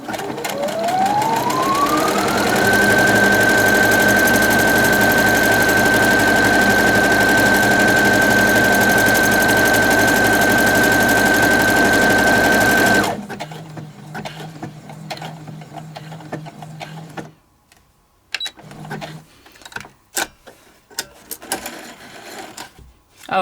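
A Brother sewing machine stitching a buttonhole runs at a steady, rapid mechanical whir with a rising whine that levels off, loud and close for about thirteen seconds, then stops, leaving quieter clicks and handling noises.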